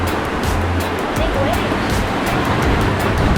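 Ocean waves wash loudly around a sailboat on a passage from Puerto Rico to Panama, a constant roaring surf with wind noise and rushing water close by.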